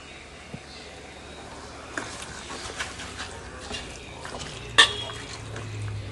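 Chicken with salt, chilli and turmeric stirred in a pan, heard as soft scraping and occasional light clinks of a spoon against metal, with one brighter clank near the end.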